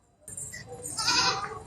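A dairy goat kept for milking gives a single loud, drawn-out bleat close by, starting after a brief silence.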